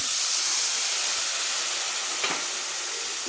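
Water poured into a hot pan over garlic paste, turmeric, chilli and cumin powders, giving a loud, steady close hiss of steam and sizzling for the whole stretch, with one brief clink partway.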